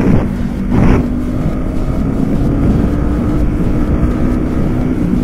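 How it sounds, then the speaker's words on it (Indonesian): A motorcycle fitted with a Tridente Ronin aftermarket exhaust runs close by, giving a steady, deep droning rumble with a slight swell near the start, and nobody speaks. "Ya kalian udah pada tahu lah ini knalpot apa ya. Tuh ya, Ronin bro dari Tritec atau Tridente."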